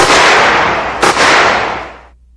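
An AAI flechette rifle fires in semi-automatic mode: a loud, close blast whose reverberating roar fills the clip, a short sharp crack in the middle, then a gradual fade into silence.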